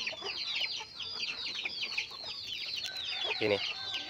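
A flock of free-range village chickens in a coop clucks and chirps steadily up close after rain, with a dense chatter of overlapping calls and a brief louder squawk near the end.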